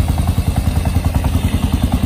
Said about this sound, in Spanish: una vez arrancada, mantiene el ralentí perfectamente